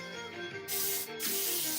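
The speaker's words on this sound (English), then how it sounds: "all we're gonna do is just spray over pretty much anywhere where you had areas where there was glue" An aerosol can sprays flat clear coat over a painted Sherman tank scale model, a loud close hiss in two bursts, with a brief pause between them.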